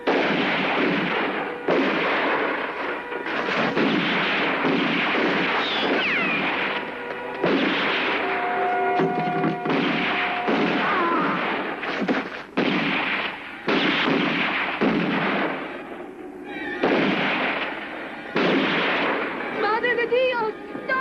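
Gunfire in a 1970 Italian western, with repeated loud shots and bursts scattered through the whole stretch, mixed with shouting voices and busy action noise.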